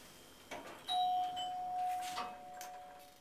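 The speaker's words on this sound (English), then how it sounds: "Nice doorbell indicator." A single clear electronic chime from a Stannah lift rings out, a sustained ding tone that rings on for over a second in a quiet indoor space.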